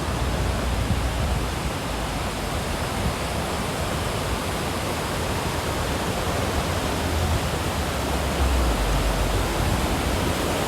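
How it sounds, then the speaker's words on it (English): The Cascada de Rio de Molino waterfall rushes in a steady, dense roar that stays constant and fairly loud throughout. "So we stopped to see a waterfall."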